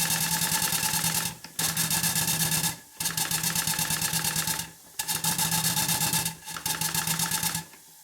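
Allchin Royal Chester traction engine running, a fast steady mechanical chuffing and clatter in bursts of about a second and a half, separated by brief pauses, close and prominent.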